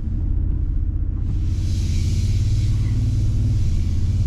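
The twin-turbo V6 hybrid engine of a 2023 Toyota Tundra Capstone 4x4 gives a deep, steady low rumble heard up close, holding an even growl with a faint higher whoosh rising after the first second.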